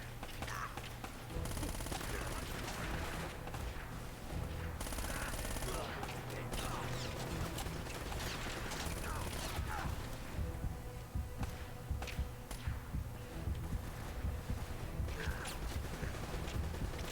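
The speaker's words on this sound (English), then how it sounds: "They're shooting me a bunch." Heavy, sustained gunfire from the video game Uncharted: Drake's Fortune, bursts and rattling volleys running almost continuously under dense game music and effects.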